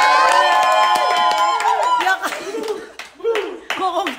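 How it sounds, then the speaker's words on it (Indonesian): Audience at a game-show style event clapping and cheering, with bursts of laughter and shouting mixed in, loud and close at first, then breaking into scattered lively voices. "Kan saya hanya mendengarkan orang-orang punya tepuk tangan."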